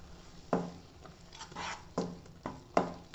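A spoon stirs thick, creamy shahi paneer gravy in a pan, giving several distinct scraping, clinking strokes at irregular intervals, close and fairly quiet with a soft sizzle between them.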